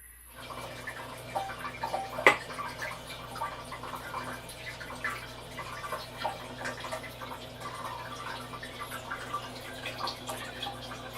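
Water runs steadily from the tap on top of a flushed Japanese toilet tank, a continuous close trickle and splash refilling the bowl, with faint drips and no talk.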